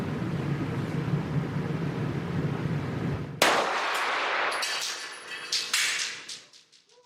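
A gunshot fired during ballistics penetration testing cracks out sharply over a steady background hum, its tail ringing briefly before a second loud impact follows a couple of seconds later and fades away.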